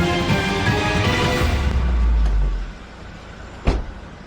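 A police operatives' car pulls over beside a white car in Carmona, Cavite, its engine rumbling loud and close before cutting off, followed by a single short door-like thump.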